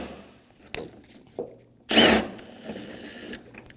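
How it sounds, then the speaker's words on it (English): A power tool briefly spins out one of the 10mm headlight bolts on a Scion xB: a sharp, loud burst of whirring lasting about half a second, framed by small metallic clicks and handling knocks. "Remove all 3 10mm bolts for the headlight."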